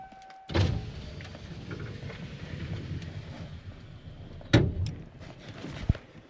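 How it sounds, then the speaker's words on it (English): A truck's power window rolls down via its switch: an electric motor whir starts abruptly, runs steadily for about four seconds, then ends with a firm clunk, followed by a faint thump. "Then I roll down the window from this switch."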